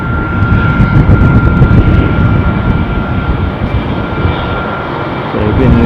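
An Austrian Airlines jet airliner rolls for takeoff at Dusseldorf airport, a loud, broad engine roar that swells, eases slightly mid-way and builds again, heard alone without talk.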